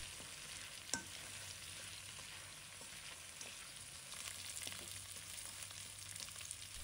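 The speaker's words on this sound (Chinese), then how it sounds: "准备葱叶也放入锅中炒，这个葱也要炒出香味" Scallion leaves stir-fried with braised pork ribs in a wok give a steady, fairly quiet sizzle, with a sharp clink near the start and occasional scrapes and stirs throughout, and no one talking.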